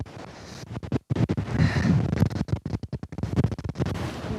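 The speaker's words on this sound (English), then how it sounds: "You can see it's bloody windy." Rough, gusty wind buffets the microphone, with scraping and flapping bursts that come and go close by; no talking.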